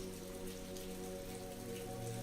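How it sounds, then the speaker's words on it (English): Steady rain taps against the windows of a cozy Venice coffee shop, a dense, even patter that continues throughout over a soft sustained musical bed. "The sound of rain tapping against the windows created a soothing backdrop to the bustling activity inside."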